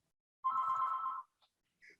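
A telephone rings once during a council meeting. It is a short, clear electronic tone lasting under a second, followed by two faint brief chirps, close by, with no talking.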